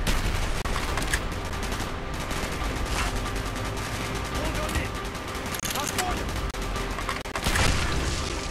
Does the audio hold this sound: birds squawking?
no